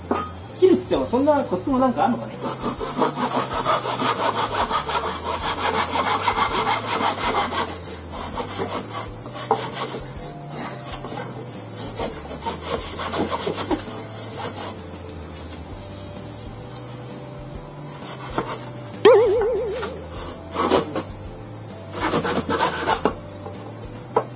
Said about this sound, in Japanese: 今日は初心者ノコギリ編なので切っていきます